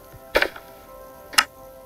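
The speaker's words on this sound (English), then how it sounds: "When you grab a block, you will hear the sound of" Two short, crisp clicks about a second apart come from grabbing blocks in Minecraft Education, a light tick-like game effect, close and alone over a faint background hiss.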